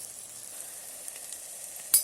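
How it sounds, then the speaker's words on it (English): Bitter gourd fries in oil inside an electric kettle, giving a soft, steady sizzling hiss close by, ending with a brief sharper clatter. "In that oil only I am keep frying it."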